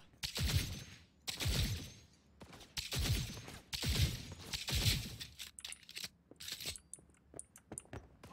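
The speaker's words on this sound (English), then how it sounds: "Someone's shooting." Gunfire in Cyberpunk 2077, a series of loud sharp bursts roughly every second, each with a crackling tail, followed by scattered lighter metallic clinks and pings, with no voices.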